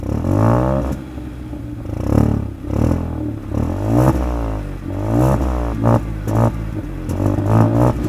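Hyundai i20 N Line twin-tip exhaust revving loudly and close, several rising and falling throttle blips in quick succession with a deep, rumbling note between bursts.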